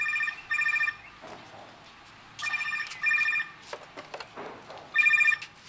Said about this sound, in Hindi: लगता है फोन आ रहा है।